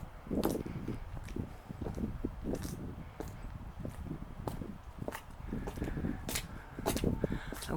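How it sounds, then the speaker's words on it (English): Heeled boots clip-clop on a hard floor in a duplex house, a steady series of close, sharp footfalls with faint rustling between steps. "I wore my boots with the heels today, so you'll hear me clip-clopping."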